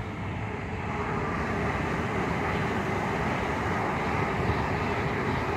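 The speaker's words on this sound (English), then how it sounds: "And there's a train. It's an IET." A steady, broad rumble of a passing Intercity Express Train at Starcross station, continuous and fairly loud throughout with no talking.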